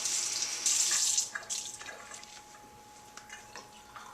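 Warm water runs from a faucet into a small glass, about a third of a cup for activating yeast in pizza dough. A steady bright hiss lasts a bit over a second, then gives way to scattered drips and splashes.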